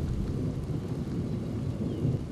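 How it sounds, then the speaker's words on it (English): A thunderstorm near a tornado in Wichita County, Texas, gives off a steady low rumble of thunder mixed with rain noise, continuous and moderately loud without any voices. "This whole storm will be a big one."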